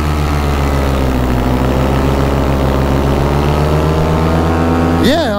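An Atom 80 engine run at full power on a model aircraft, droning loud and steady with a buzzing harmonic tone that holds throughout, then wavers and dips as it bogs down near the end.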